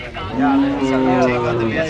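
Buffaloes and calves low loudly and close by, with one long sustained moo and other animals murmuring underneath.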